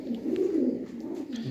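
A pigeon coos close by, a soft low throaty burble rising and falling in a short phrase, with a second brief coo at the end.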